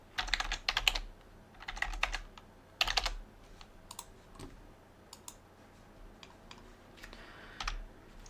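Bursts of quick clicking keystrokes on a computer keyboard, close and crisp, arrive in several short clusters separated by quieter pauses with scattered single taps.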